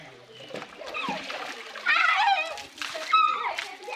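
Water splashing at a natural hot spring pool at Rajapur, bursts of sloshing and splatter close by, with people and children talking and calling out over it.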